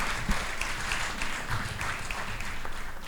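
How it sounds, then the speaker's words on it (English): An audience at a book launch applauds, dense continuous clapping that holds steady throughout the short stretch. "A round of applause, please."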